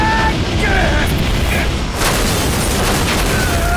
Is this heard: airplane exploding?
yes